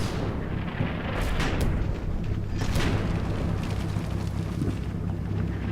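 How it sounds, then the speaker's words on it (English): Support gun fire in the Combat Mission WWII tank game, a dull booming blast rolling over constant low battlefield rumble, with a couple of sharper bursts standing out amid the din. "support gun was trying to shoot this and it missed"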